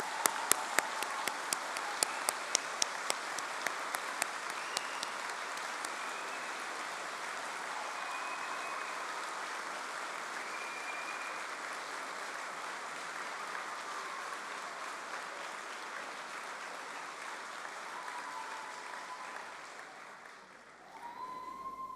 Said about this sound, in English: let's give them a tumultuous round of applause